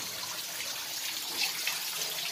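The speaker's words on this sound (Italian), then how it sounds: "Mamma mia, ma va su all'infinito questa cascata qua." Steady broadband rush of a tall cascading waterfall inside the Ciunetto mine, a continuous hiss of falling water heard from nearby with no talk over it.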